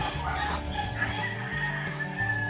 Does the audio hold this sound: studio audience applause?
no